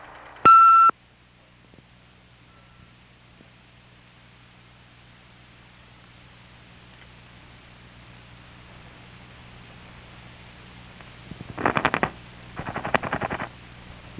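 Answering machine beep tone on a 1974 Southern California phone line recording: one short, loud, pure beep near the start, then low line hiss and hum, followed by bursts of noisy crackle near the end.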